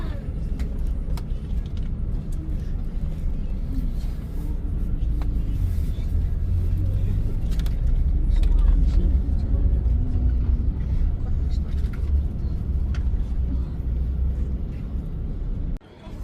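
Bus driving on a road in Ukraine during wartime, a continuous low engine rumble and road noise from inside the cabin with occasional rattles, rising slightly in the middle.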